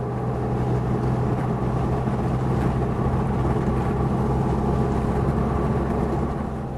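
Volkswagen Beetle engine droning steadily from inside the car while driving to warm up, a loud continuous low hum with no pauses.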